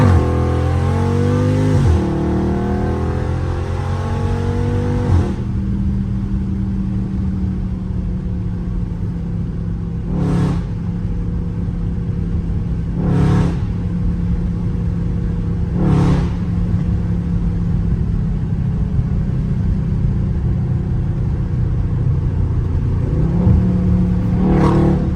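A Dodge Charger Scat Pack engine revs while driving on the street, a loud deep exhaust rumble that climbs through gear changes and then settles into a steady drone, broken by several short whooshes of passing traffic.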